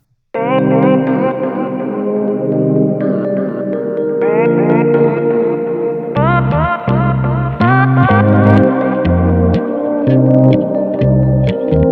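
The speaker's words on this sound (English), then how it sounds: "Just an echo." Synth music played through the Neold Warble echo plugin: sustained chords with repeating echoed tails, later joined by a pulsing low bass pattern, loud and continuous.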